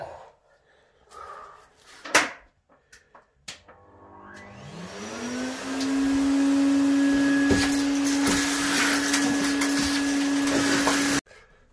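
A vacuum cleaner hoovering up rodent droppings and dust in a loft: a few knocks and bumps, then the motor spins up to a loud, steady whine and roar that runs until it cuts off abruptly.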